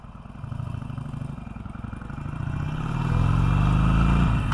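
A Harley Davidson Iron 883 with a changed front sprocket pulls away in first gear, its low, loping engine rumble building steadily louder as it accelerates, close and with no voices.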